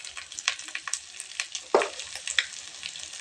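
Shrimp tossed with turmeric, chili powder and salt in a frying pan while cooking bagda malaikari, giving steady soft sizzling with repeated scraping stirs and one louder clatter partway through.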